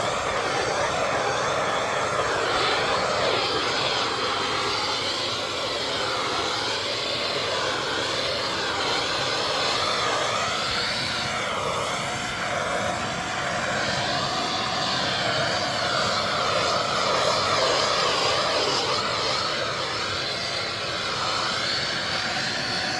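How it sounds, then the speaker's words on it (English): Blowtorch roaring steadily as it heats a faded plastic Freightliner Cascadia truck bumper, a continuous loud, broadband rushing hiss that holds for over twenty seconds with slight wavering and no talk. "Blowtorch, this is plastic, so I'll go along here"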